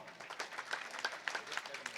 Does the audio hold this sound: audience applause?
yes